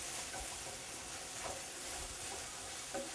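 Nopales and eggs sizzling in a frying pan while being stirred, a dense, close hiss with soft scraping strokes scattered through it.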